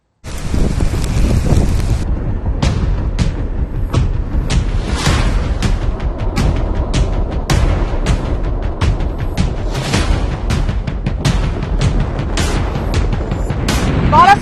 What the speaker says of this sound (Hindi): तेज हवाएं चल रही हैं, 140 किलोमीटर प्रति घंटे के हिसाब से ये हवाएं हैं